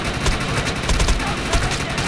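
Dense, continuous bursts of rapid gunfire crackle without pause, loud and close, an intense firefight in the shooting game Defiance.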